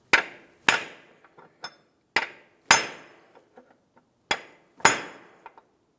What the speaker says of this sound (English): they're actually stuck in place, which is why I had to tap them out of place with a hammer.